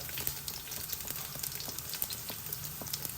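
Garlic dropped into hot oil for sambar, giving a steady close frying sizzle with scattered crackles and pops throughout, no talking.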